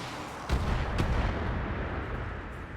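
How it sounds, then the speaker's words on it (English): Explosions from an internal ammunition blast in the Battletech mech game sound as two deep booming hits about half a second apart, followed by a low rumbling roar that fades gradually. "Internal ammo explosion."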